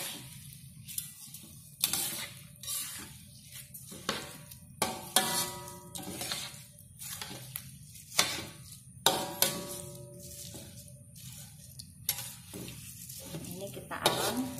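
A spoon stirs rice cooking in a pan on the stove for Acehnese savory rice, making repeated scraping strokes in an irregular rhythm over a soft, steady low sizzle, with no voices.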